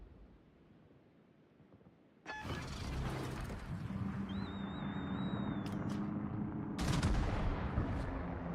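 A warning shot in the naval video game World of Warships: a sudden loud report after a quiet start, then sustained mechanical rumble and rattling, with a second sharp burst near the end.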